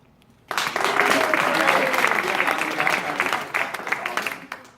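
A storytelling-night audience in an art space in Portsmouth, New Hampshire, breaks into sudden applause that starts abruptly after a quiet moment. It stays full and steady, then thins out toward the end.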